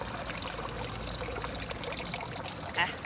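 Thin water trickles and pours from a public fountain in a steady, soft stream, with faint background murmur and a brief louder splash near the end.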